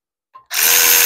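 A faint click, then a loud electric ratchet starts up close on a bolt of an old lowrider hydraulic pump and keeps spinning steadily to the end.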